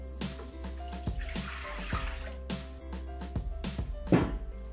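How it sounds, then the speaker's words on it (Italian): Milk pouring into the mixing bowl of a Thermomix TM6 food processor in a home kitchen, a steady close liquid splash with short bursts and trickles running alone for several seconds. "Andiamo a mettere nel boccale il latte."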